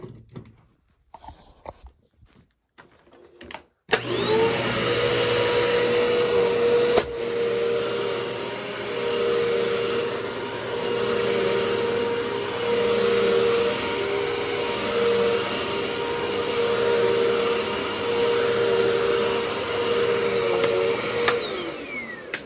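A Bissell Lift-Off upright vacuum cleaner switches on and runs steadily with a loud, constant motor drone and whine, then shuts off near the end.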